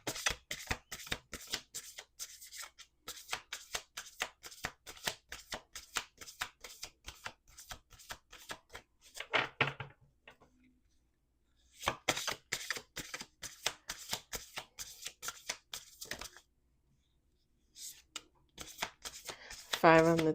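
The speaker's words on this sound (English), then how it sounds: "Two more shuffles." Cards are shuffled close up in rapid riffling bursts, with brief pauses between rounds and a final quick flutter.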